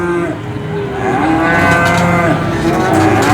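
Cattle low again and again in long, drawn-out moos, close and loud and overlapping, at the Pon cattle market in Purwantoro where calves and young bulls are sold for fattening.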